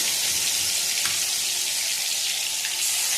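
Chicken pieces dropped into hot oil for a chicken gravy, giving a steady, dense hiss of frying that runs unbroken and fairly loud with no talk over it.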